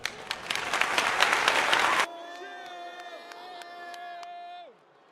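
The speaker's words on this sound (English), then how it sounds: "Round of applause." Crowd at a UFC 313 watch party applauding and cheering the new light heavyweight champion after Alex Pereira vs Magomed Ankalaev, a loud dense burst of clapping and whoops that cuts off abruptly, followed by a sustained tonal broadcast sound.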